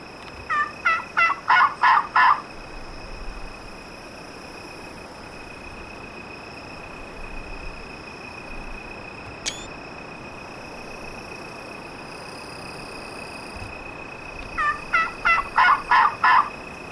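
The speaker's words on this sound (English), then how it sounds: "Two turkeys out there. One of them's definitely a Tom." A wild turkey tom gobbles in rapid rattling bursts, once at the start and again near the end, distant across a field with steady insect and bird ambience in between.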